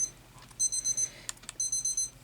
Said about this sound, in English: Please stop beeping at me,